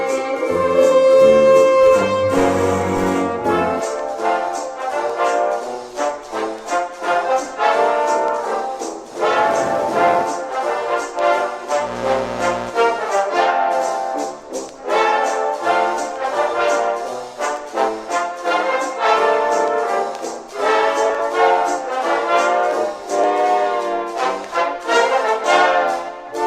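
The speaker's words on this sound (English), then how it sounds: "This is what it sounds like with vinyl." Old-record vinyl simulation from the iZotope Vinyl plugin laid over steady, dense music, giving a continuous loud track with crackly, aged character throughout and no talking.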